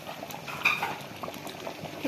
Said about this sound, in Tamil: பாருங்க நல்லா கொதிச்சிருச்சு.